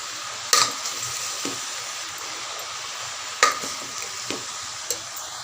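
Bottle gourd pieces with salt and turmeric being stirred in a pan, giving a steady soft sizzle with a few sharp clinks and scrapes of the spoon against the pan.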